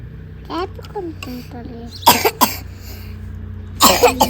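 A child coughs in two sharp, harsh bursts after some soft speech-like sounds, close by and loud against a quiet room.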